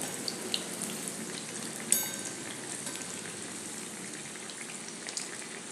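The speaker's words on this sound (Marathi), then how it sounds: "थोड्या मीडियम गॅसवरती तळून घ्यायचं" Bread pakoda fries in oil over a medium gas flame, giving a steady, fairly quiet hiss and fine crackle with a few faint clicks, no voices.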